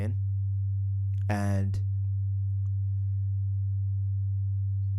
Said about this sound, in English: we have a sound coming in here from the VCA, from the pitch of the oscillator through the VCA out to our speakers